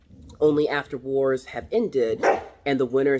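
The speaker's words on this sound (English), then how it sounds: "that's my dog, he's playing with a toy, and we're just going to let him." A pet dog plays with a toy indoors and lets out yips and barks that are mixed into steady, continuous speech from a person nearby.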